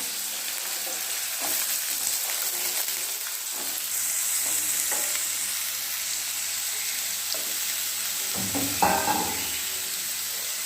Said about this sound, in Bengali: তো তেলটা গরম হয়ে গেছে, আর ও এবার আলুগুলো ছেড়ে দিচ্ছে